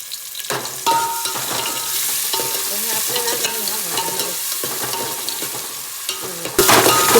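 Onion sizzles and fries in oil in a pot on a wood-fired village stove, with a spoon scraping and stirring it in steady repeated strokes. The loud, constant frying hiss carries on throughout, and a louder burst comes near the end.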